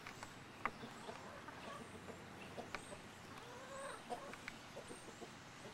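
A bantam hen clucks in short, scattered bursts on a farm, fairly faint and at middle distance, over a soft outdoor background with occasional other bird sounds.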